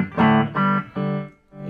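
Electric guitar played through the clean channel of a Marshall JTM 30 amplifier with reverb, a few sustained strummed chords ringing out in close succession with a reverberant tail between them, no talking.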